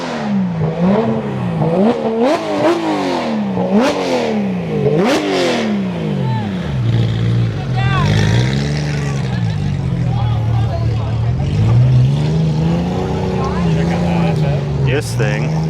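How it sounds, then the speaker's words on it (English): Several car engines rev hard one after another at a night car meet, including a Lotus Elise and a British Racing Green turbo car, with loud rising and falling revs near by, then a steadier idling rumble under background chatter. "Maybe I'll just be quiet and let the engines speak for themselves."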